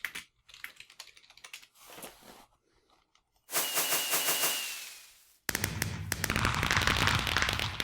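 Minecraft fireworks going off at night, glowstone-dust rockets with a twinkle effect: sharp crackling bursts and rapid popping, loud and close, alternating with a long rising whoosh and dense sparkling crackle at the end.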